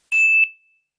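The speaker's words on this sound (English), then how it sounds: "So that's this beautiful little bell," A small bell gives one bright, clear ding, loud and alone, then rings out into a ringing tail that fades within about half a second.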